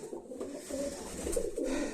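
Pigeons coo steadily inside a pigeon loft, a soft, rolling series of calls close by with no talking.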